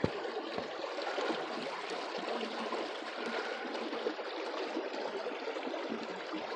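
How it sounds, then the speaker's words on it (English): A mountain stream rushes steadily along a forest trail, a dense, continuous broadband wash of flowing water, close and loud throughout with no pauses. "You can see that water rushing pretty good."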